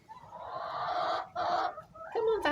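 Hens out in the snow for the first time give a run of close, drawn-out clucks and squawks, a few bursts separated by short pauses.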